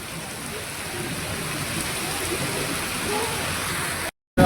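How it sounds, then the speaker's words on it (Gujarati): Steady heavy rain pouring down, a dense continuous hiss with a dull roar underneath, then a sudden brief cutoff near the end. "વરસાદ તો કેટલો ગાજે છે"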